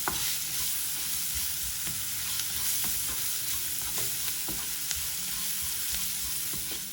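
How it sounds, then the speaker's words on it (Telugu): Finely chopped onion frying in a pan makes a continuous, even sizzle with scattered pops and stirring clicks close by, no voices. "ఉల్లిపాయ కొద్దిగా సాఫ్ట్గా అయ్యే వరకు వేయించుకుంటే సరిపోతుంది."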